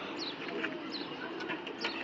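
At a pigeon market, closed-tail pigeons give soft, low repeated coos, faint and somewhat distant against a muffled background murmur.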